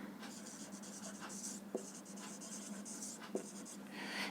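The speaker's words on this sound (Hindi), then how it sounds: "यहां मैं लिखता हूं" A pen writing by hand, heard as steady scratchy strokes with short pauses between words and a couple of small taps, close and continuous for about four seconds, with no talking.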